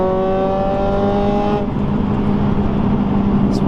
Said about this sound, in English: So when it gets louder, is that you putting your foot down more, or is that VTEC?